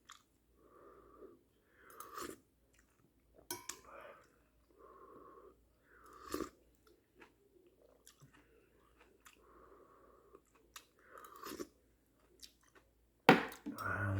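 Neoguri ramen noodles are chewed and slurped close to the mic in soft, intermittent bursts with quiet gaps, ending in a sharper crunch or clatter.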